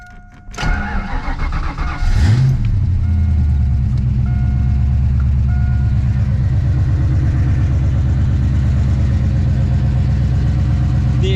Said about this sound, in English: Good old cold start.